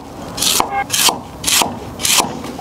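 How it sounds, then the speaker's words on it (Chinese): A knife slices winter bamboo shoots on a wooden board in four evenly spaced crisp rasping cuts, close and clear with no talk. "冬笋切片"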